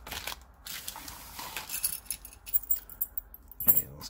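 A set of keys jangles faintly as it is pulled from a package, with scattered light metallic clinks and rustles over a quiet background and a soft thump near the end.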